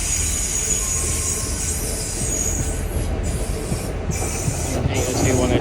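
A Class 802 train rumbles steadily through Bristol Temple Meads station at close range with a rushing, rattling roar and faint wheel squeal, no voices.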